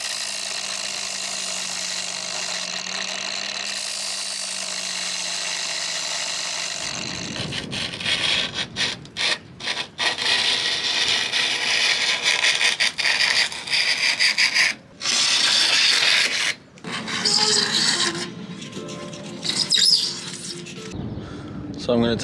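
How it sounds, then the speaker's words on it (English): A blade being sharpened for a fibreglass filleting tool used on an old catamaran hull project, giving rough, uneven rasping strokes in irregular bursts after a quiet stretch of steady background hum. "we're going to sharpen the blade to make the job easier"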